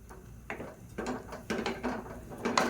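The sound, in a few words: closing the pressure cooker lid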